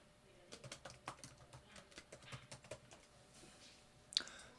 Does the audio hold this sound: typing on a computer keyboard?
yes